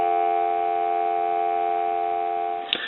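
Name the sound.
telephone dial tone from candlestick phone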